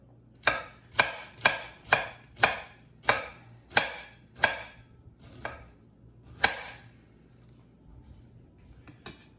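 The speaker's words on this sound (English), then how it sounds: "I get smaller pieces and slice them slowly in strips, or julienne as they call it." A kitchen knife slices vegetables into julienne strips on a cutting board, nine or so crisp, evenly spaced chops followed by a few slower cuts, close and distinct in a quiet room.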